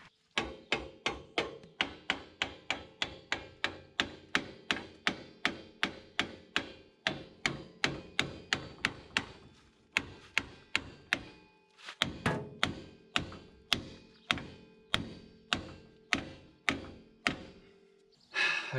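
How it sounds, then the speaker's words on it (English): Repeated heavy metallic hammer blows on a seized trailer brake drum, steady and evenly spaced, several dozen strikes with a brief pause midway, close and loud. "Let's just get a hammer and hammer on it."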